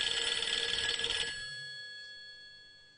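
A telephone bell rings loudly in a steady rapid trill for over a second, then cuts off and leaves a fading ringing tone in a quiet room.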